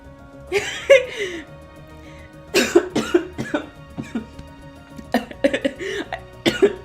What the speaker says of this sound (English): I did that so suddenly I started coughing.